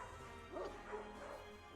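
Dogs barking and running toward an entrance in a Hell's Rebels tabletop session, a few short barks and yips over a low background of music and ambience.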